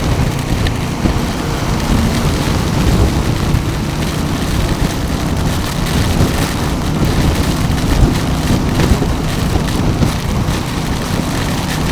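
Heavy monsoon rain in Mumbai pours steadily in a dense, continuous roar, loud and close, with no pauses.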